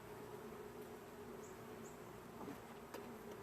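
Honey bees swarm around an open hive during an inspection in a drought with little in bloom, giving a dense, continuous buzzing drone up close, with a few individual bees zipping past.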